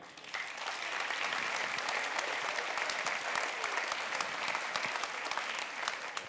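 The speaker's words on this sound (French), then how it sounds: "On peut l'applaudir." A dinner audience gives sustained applause to the evening's host, a comedian, at a mayor's supper, with dense, even clapping that starts quickly and holds steady.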